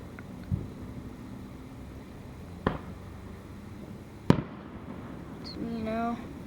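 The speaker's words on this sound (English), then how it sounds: "15 minutes of fireworks." Fireworks going off outdoors: three sharp booms spread a couple of seconds apart, with a whistling or crackling tail near the end over low background noise.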